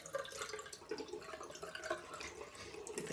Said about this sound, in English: With that much, I'm going to add some water,